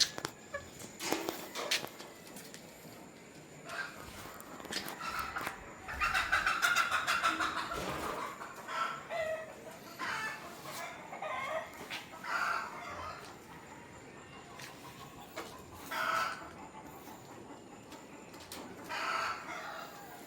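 Raptor sweater gamefowl rooster in a breeding pen, clucking and calling at intervals among faint bird and farmyard background sounds, moderately distant.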